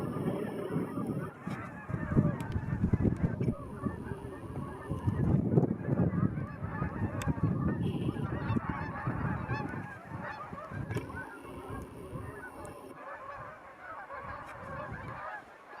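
A flock of geese honking loudly at a reservoir in the Idaho desert, a dense, continuous chorus of overlapping calls close by.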